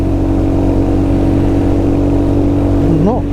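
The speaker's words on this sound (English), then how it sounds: "We'll rev this bike out in third." A Hunter 350 motorcycle in third gear holds a loud, steady engine drone under a rush of wind, then the engine note climbs sharply at the very end.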